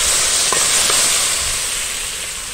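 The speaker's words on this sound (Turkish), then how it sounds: "sarımsaklarımız şöyle kızardı, kokusu çıktı" Garlic fries in hot oil with a loud, steady, close sizzle and hiss that fades slightly toward the end.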